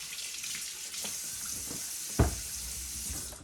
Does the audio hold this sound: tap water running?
yes